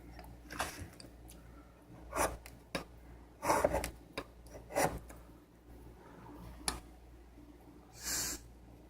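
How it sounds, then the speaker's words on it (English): Serrated steak knife being sharpened, quiet scraping strokes in irregular bursts with pauses between, close and faint, with no speech. "This is just sharpening a steak knife that is serrated"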